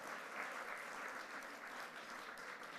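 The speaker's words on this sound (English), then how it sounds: "Let's give Cecile a round of applause." A crowd at a leadership celebration event applauds for Cecile with a steady, even wash of clapping throughout, heard quietly and from a distance.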